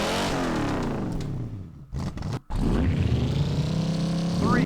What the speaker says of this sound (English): let's see what the McLaren sounds like now